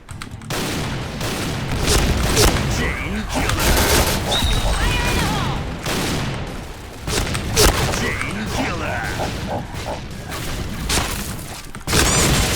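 Grenade blasts and bursts of gunfire from a shooting video game, heavy booms and rapid shots packed densely and loudly throughout, with a player's voice talking over the action.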